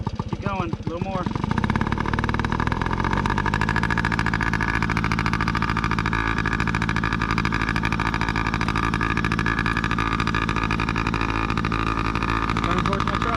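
A motorcycle ridden by a beginner runs loud and close, its engine a dense, continuous roar that holds steady for many seconds after a brief burst of talking at the start.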